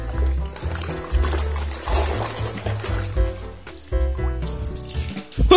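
Muddy toy aircraft and helicopters are washed under a running tap, water splashing and trickling steadily over a tonal musical background with no talk.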